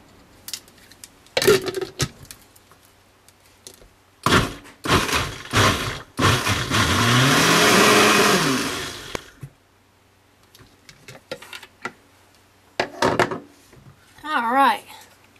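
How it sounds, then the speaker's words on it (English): A kitchen blender pulses spaghetti sauce ingredients for low-carb sauce in several short bursts, then runs in one long, loud, steady whir, with a pitch that shifts as the mix smooths, followed by brief clatter and a voice. "And then into the blender it goes. Now I'm just going to pulse these a few times to get it going"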